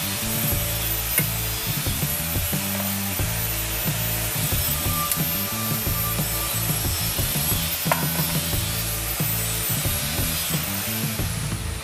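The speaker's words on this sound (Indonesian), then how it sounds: "Di sini sedikit berisik karena ada yang lagi gerenda ya guys, karena memang workshop dan lagi bekerja." An angle grinder runs in a busy metal workshop where a chopper motorcycle fuel tank is being made. Its constant gritty roar fills the background, with scattered clanks and knocks of metalwork on top. No voices are heard.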